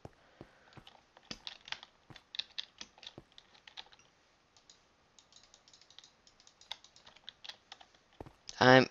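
Someone types on a computer keyboard close by, delivering quick irregular bursts of clicking key presses with short pauses between, ending in a louder clatter.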